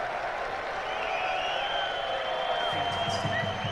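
A football crowd at a South Melbourne match applauds a goal, a broad, steady wash of clapping and cheering at moderate distance, with a commentator's voice over it.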